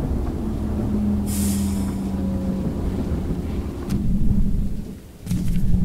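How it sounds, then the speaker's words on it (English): Rolling thunder rumbles through wind during a lightning storm in the video game Choo-Choo Charles, a long low roar that swells, dips briefly and returns loud. "Ooh, lightning."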